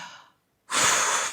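Breathing during a dumbbell lateral raise set at the gym: a soft exhale fades out, a brief pause follows, then a sharp, loud, close inhalation through the mouth.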